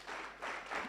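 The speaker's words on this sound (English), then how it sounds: "Let us prepare to clap for her." Audience applause at an International Day of Democracy event at the University of Nairobi, a brief dense burst of clapping from a crowd, steady and fairly close.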